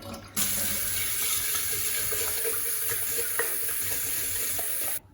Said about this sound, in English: I'm going to drain these now and rinse them really well.